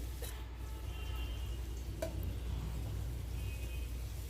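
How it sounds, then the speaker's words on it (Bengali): Fish frying in a little oil in a frying pan, a quiet, even sizzle with a low steady hum underneath and one faint tap, no voices. "মাছটা ভেজে নেওয়ার জন্য একটু ফ্রাইফ্যানে তেল দিয়ে এখন ভেজে নিচ্ছি"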